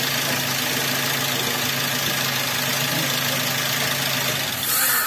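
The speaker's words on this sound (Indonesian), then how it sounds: "Matiin aja mesinnya." A Toyota Avanza/Daihatsu Xenia engine idling steadily at close range, a constant loud rumbling drone with a suspected compression leak and rough, hunting idle, shifting slightly at the very end.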